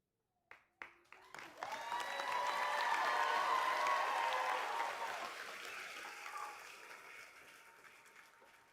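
A few scattered claps build quickly into loud, sustained applause from a high school graduation crowd with cheering, then taper off gradually.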